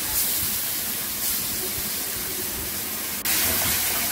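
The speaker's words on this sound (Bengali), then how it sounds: "তেলটা বেশ গরম হয়ে আসলেই কাজটা শুরু করে দিতে হবে। দিয়ে দিলাম আমি সমস্ত বাটাটা।" Ground green banana peel paste dropped into hot oil, giving a steady, loud hiss and sizzle that runs throughout, with a brief dip and renewed surge near the end.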